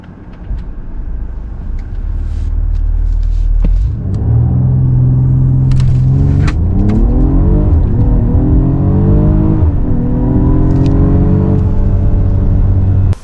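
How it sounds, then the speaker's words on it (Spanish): 2023 Mercedes GLE 53 AMG with a six-cylinder engine accelerating from 0 to 100 km/h: a low idle rumble gives way to a loud surge, with engine pitch climbing and dropping through several gear changes. "vamos a ver una aceleración de 0 a 100 de este GLE 53 AMG"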